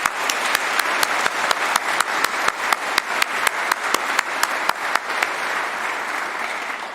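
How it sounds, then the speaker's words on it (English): Sustained audience applause at a university convocation, loud dense clapping across a large hall with a few sharp, louder claps standing out in a regular rhythm, unbroken throughout. "Give him a big round of applause."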